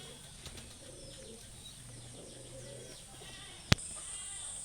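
Pigeons in a loft where a pair is feeding chicks give soft, low cooing and occasional wing flutters, faint and steady, broken once by a sharp click.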